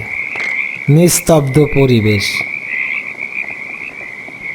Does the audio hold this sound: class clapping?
no